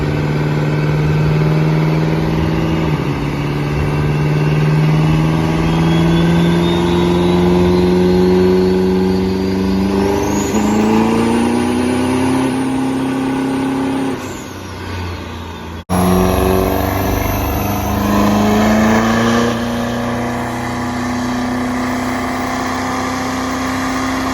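A loud truck engine drones and revs steadily on a dyno at a truck meet in Atlantic City, pitch climbing in long sweeps, briefly dropping off near the middle before pulling hard again.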